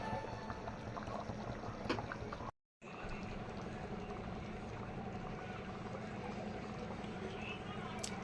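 A pot of goat leg curry (aattukaal kuzhambu) boils vigorously, giving a steady, dense bubbling rumble throughout, broken only by a brief cut of silence.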